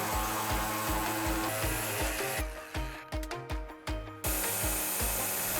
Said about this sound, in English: we're gonna switch back over to our high speed grinder and cut to those corners